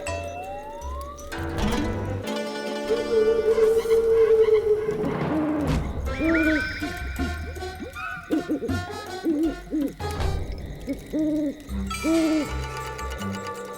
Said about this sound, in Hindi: अचानक उल्लू बोलने लगे।